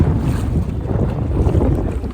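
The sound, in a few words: wind on a boat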